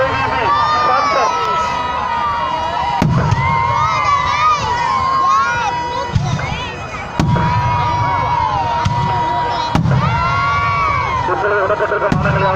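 Fireworks display by Narendran Fireworks of Kanchipuram at the Karur Mariamman temple festival, with repeated sharp bursts and cracks over a loud, continuous crowd roar with shouting and cheering, a public-address voice talking throughout.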